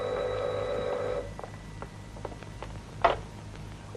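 An old telephone bell rings in a home, one sustained ring that stops after about a second, followed by a quiet room with faint scattered knocks and small noises.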